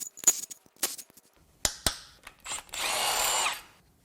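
Impact wrench or drill spinning out bolts from the front of a BMW N54 twin-turbo engine block and head during a teardown: several short sharp bursts, then one longer sustained whirring run, close and fairly quiet.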